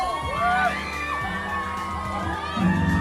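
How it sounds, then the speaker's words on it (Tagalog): A crowd at a live stage show screams and cheers continuously, with high shrieks and whoops from many voices rising and falling, loud and close, and a swell of louder cheering near the end. "Grabe! Sigawan ng lahat."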